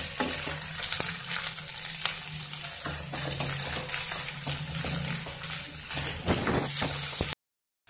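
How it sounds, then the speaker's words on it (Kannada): Green chilies sautéing in oil for a tomato onion chutney produce a dense, continuous sizzle with frequent stirring scrapes and pops, loud and close, then cut off abruptly into silence near the end. "ಇದಿಷ್ಟು ಒಂದು ಸ್ವಲ್ಪ ಬಾಡಿಸ್ಕೋಬೇಕು."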